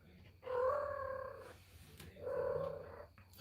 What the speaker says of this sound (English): She's meowing a lot.